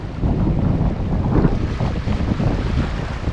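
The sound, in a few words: strong wind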